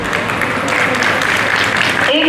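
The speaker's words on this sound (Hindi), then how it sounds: "एक बार ईमानदारी से दिल से अपने लिए ताली बजा दीजिए" An audience at a Divya Jyoti Jagrati Sansthan Mother's Day workshop claps together in a dense, steady burst of applause, close and loud, with a voice speaking over it toward the end.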